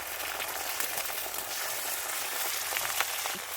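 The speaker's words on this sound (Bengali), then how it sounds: "ডিম বেগুন করার জন্য আমি ডিমটা অমলেট করে নিচ্ছি।" Beaten egg frying as an omelette in a pan, part of a village-style egg and eggplant curry, giving a steady close sizzle with light crackles throughout and no voices.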